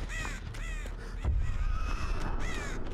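Crows caw repeatedly in the Dead by Daylight video game, several harsh calls overlapping at close range against a steady rumbling game backdrop.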